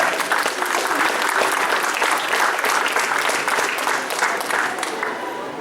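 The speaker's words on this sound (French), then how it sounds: "Les applaudissements pour Danielle Caron." An audience applauds an award recipient at a community forum, steady dense clapping filling the room at a constant level from start to finish with no voices breaking through.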